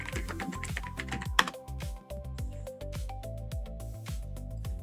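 Close, steady tapping of keys on a computer keyboard as a search for Google Chrome is typed, irregular clicks running throughout with no speech.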